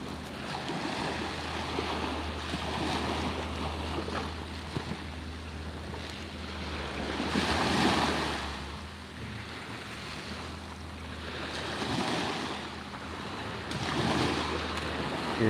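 Ocean surf at Little Hickory Beach in Bonita Springs, Florida, rolls in soft, distant swells that rise and fall every few seconds, with a low wind rumble underneath.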